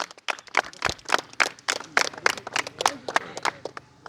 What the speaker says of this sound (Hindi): एक बार चाहूंगा इनकी बात पर आप लोग तालियां बजा दें।